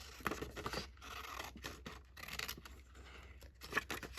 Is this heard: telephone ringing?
no